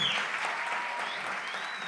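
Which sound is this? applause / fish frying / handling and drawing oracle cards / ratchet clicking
applause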